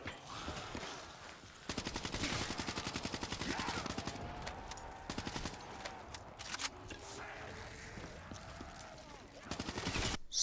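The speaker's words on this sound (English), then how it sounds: "I just love this gun because of the nostalgic feeling and just the sound of the gun." An assault rifle fires in a Call of Duty Zombies match: several rapid bursts of automatic fire rattle close and loud, separated by quieter stretches of game sounds.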